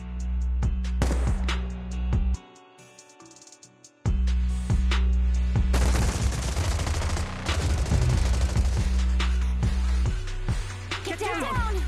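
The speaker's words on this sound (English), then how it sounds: "Gunfire? This pattern. Suppressive marching fire." Heavy, dense bursts of video game gunfire crackle in close, rapid volleys of suppressive marching fire, pausing briefly before resuming amid explosions and shouting voices.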